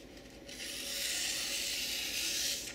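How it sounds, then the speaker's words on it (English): A knife push-cutting newsprint across the grain after sharpening on a Norton India Fine stone makes a continuous coarse scraping rasp, close and steady for a couple of seconds, starting after a brief quieter moment. "it's actually push cutting the newsprint across the grain"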